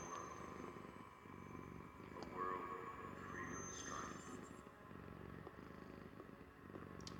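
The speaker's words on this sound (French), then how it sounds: "si vous entendez des bruits de ronronnement, c'est normal, hein, j'ai mon chat à côté de moi" Domestic cat purring close by, a soft low rumble with a pulsing rhythm under quiet indoor background noise.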